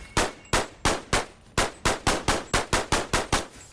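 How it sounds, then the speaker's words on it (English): A weak tactical pistol in the BONELAB video game fires a rapid string of about fourteen sharp, clanging shots, evenly spaced and loud, with no talking. "I think this thing fires like a really weak bullet"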